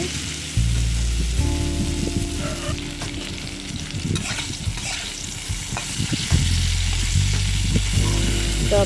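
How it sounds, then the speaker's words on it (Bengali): Bitter gourd and potato with turmeric sizzle and crackle in a hot pan, a steady frying hiss with occasional stirring scrapes, close up. "আরও আরেকটু ভালো করে ভেজে নেব"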